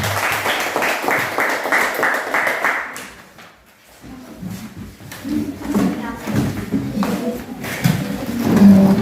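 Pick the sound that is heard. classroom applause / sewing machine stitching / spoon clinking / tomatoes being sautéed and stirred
classroom applause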